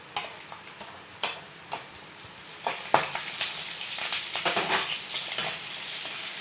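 Onions sizzle steadily in a hot pan for semiya upma, with sharp spoon scrapes and clicks against the metal that grow busier partway through, close and fairly quiet, no voices.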